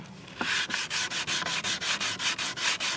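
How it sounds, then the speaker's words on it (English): Salvaged redwood is hand-sanded with 220 grit sandpaper in quick, rhythmic back-and-forth strokes, about a dozen close, even rasps in a row after a brief pause. "we'll just pass that over with a little more 220 grit."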